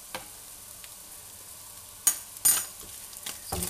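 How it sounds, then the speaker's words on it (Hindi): Beef chilli with sauce being stirred in a pan over high heat: a faint low sizzle underneath, with a few sharp scraping clinks of the spoon against the pan, two of them louder, near the middle. "मिक्स कर लेते हैं।"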